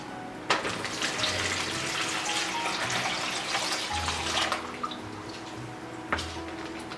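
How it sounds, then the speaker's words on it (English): Water poured from above into a plastic Ziploc bag, a close, steady splashing gush with a few sharper plops and knocks standing out, no voices over it. "I'm going to be pouring the water inside the bag."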